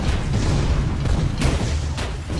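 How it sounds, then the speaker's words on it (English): Giant mega cannons fire in the video game Tower of Guns, heavy booms and blasts layered over a dense rumbling barrage of game noise, loud and continuous with a few sharper bursts. "And then there's also those super giant mega cannons,"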